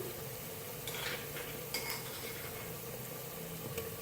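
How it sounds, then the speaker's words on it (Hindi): Ginger garlic paste frying with light golden-brown onions for a turnip curry, a soft steady sizzle broken by a few light scrapes and clinks of a utensil stirring in the pot. "साथ ही फ्राई करेंगे प्याज के साथ"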